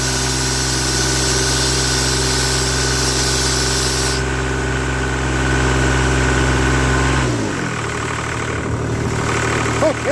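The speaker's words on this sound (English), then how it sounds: "if I close that big valve, it should come down to idle" A CompAir mobile air compressor's engine runs loudly and steadily, then drops abruptly near the end as it settles down toward idle after a big valve is closed.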